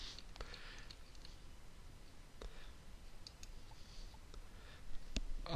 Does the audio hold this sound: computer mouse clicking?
yes